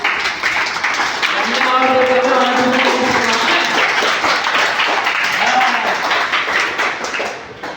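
Children applauding at a school science quiz, a burst of clapping filling most of the stretch and fading toward the end, with someone speaking over it.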